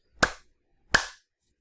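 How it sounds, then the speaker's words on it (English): Two sharp hand claps, about 0.7 seconds apart, each a crisp close-up crack with a short decaying tail, recorded into Audacity in an otherwise quiet room with no talking. "if I clap"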